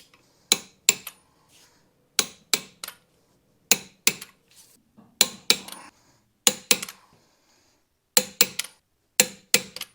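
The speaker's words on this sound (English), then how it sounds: "So I got my torque wrench, my actual torque wrench, and we're going to tighten it to 60 pounds first" A torque wrench tightens coilover bolts on a 3rd-generation Honda Prelude, giving sharp, close metallic clicks in quick pairs and small clusters, separated by short quiet gaps, with no talking.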